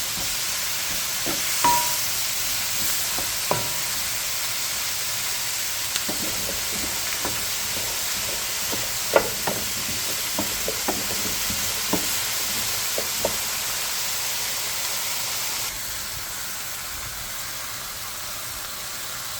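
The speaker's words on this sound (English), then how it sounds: "We're gonna cook our tomatoes until they are softened." Tomatoes cooking in a pan for Filipino beef mechado give a steady soft sizzle with scattered light clicks and stirring taps, heard alone and moderately loud throughout.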